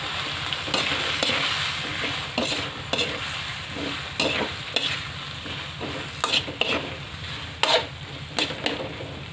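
Canned shiitake mushrooms sautéing for chop suey, a continuous close sizzle broken by repeated scraping stirs of a utensil against the pan.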